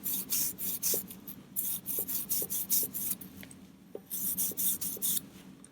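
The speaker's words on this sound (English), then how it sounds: "I'm just going to dab a little on this microfiber cloth. Then I can clean these contacts with it." A microfiber cloth dampened with 90% alcohol scrubs the contacts of an NES 72-pin connector in quick repeated strokes, a rhythmic dry rasping that comes in short bursts with brief pauses.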